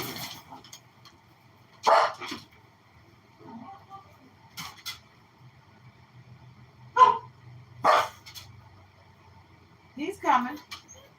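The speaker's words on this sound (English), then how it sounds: "I know that's my husband at the door, because she barks like that for him" A pet dog gives scattered, fairly close barks and yips as a husband arrives at the door, spaced out over several seconds amid a quiet room.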